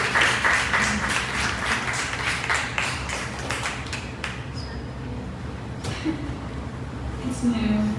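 An audience at a live songwriting event claps and cheers, a dense burst of applause in the first few seconds that thins into scattered claps and fades under brief talk.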